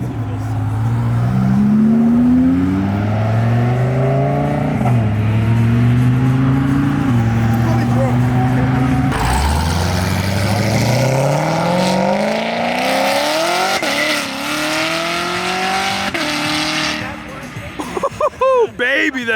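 A Whipple supercharged Ford GT revs loudly and close by in repeated rising and falling pulls, the engine note climbing and dropping several times, with voices in the background.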